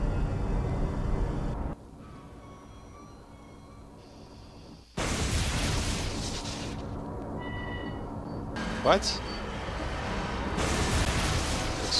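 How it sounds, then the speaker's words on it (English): Loud bursts of explosive booms and rumbling blasts from the video game Afterfall Insanity, broken by a quieter stretch, with a brief spoken word in the middle. "Explosions."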